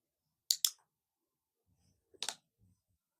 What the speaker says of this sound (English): I'm clicking twice like a dummy